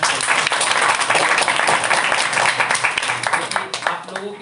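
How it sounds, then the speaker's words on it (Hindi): Loud, sustained applause from a crowd of students at a prize distribution for test toppers, dense clapping filling the whole stretch and thinning slightly toward the end. "सुमन सर के लिए एक बार जोरदार ताली तो होना चाहिए"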